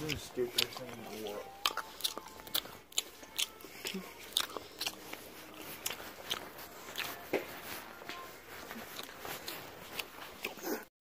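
Mouth noises mimic gum chewing inside a store, a series of sharp, wet clicks and smacks repeating irregularly and close, with a voice imitating the sound over background store ambience.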